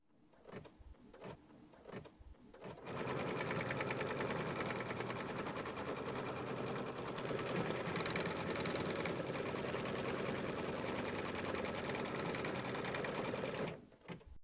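A sewing machine runs continuously at a fast, even stitch rate for about eleven seconds, stitching out a wing placement line on a small Love Birds quilt, close and steady, starting after a few light handling taps.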